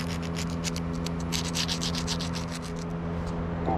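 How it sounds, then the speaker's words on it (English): Deburring shavings on a 7.3 diesel injector cup, a quick series of scraping, rubbing strokes up close against a steady low hum, no talking. "you want to deburr any shavings that you made"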